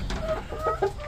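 A chick clucks in short, close, moderately loud bursts, a few quick peeping clucks over a brief moment with a low background hum.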